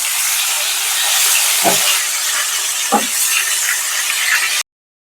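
Pointed gourds frying in hot oil give a steady, loud hiss and sizzle, broken by two brief soft thumps, before the sound cuts off abruptly.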